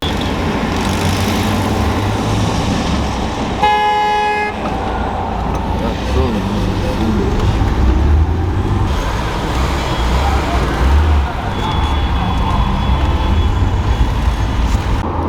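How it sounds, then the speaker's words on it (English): Busy Baku city street traffic heard from inside an old Lada 2107, with a steady roadway rumble and a short car horn toot near the start, other vehicles passing close by. "Traffic, of course, is absolutely crazy"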